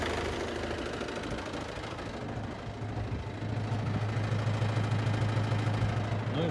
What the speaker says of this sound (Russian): Вот так, кстати, работает двигатель. Вот как часики, не дымит.